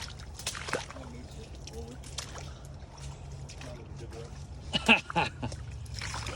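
Feet slosh and splash through shallow creek water in a wooded area, quiet intermittent trickles and steps with a louder splashing burst near the end, under occasional talk.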